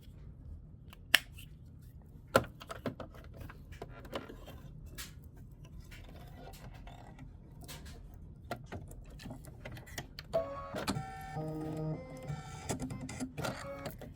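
Quilt block being stitched on an embroidery machine: a steady mechanical whir with rapid needle clicks and occasional sharper knocks, continuing for the whole stretch, with busier, louder stitching toward the end.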